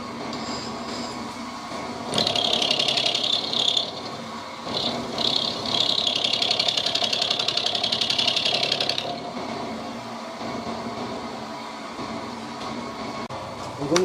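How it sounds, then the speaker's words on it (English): A milling machine cutting a cheek piece for a lathe cross slide feed nut, giving a loud buzzing, chattering whine over a steady motor hum, rising and easing as the cut progresses. "Now we need to machine this cheek piece out."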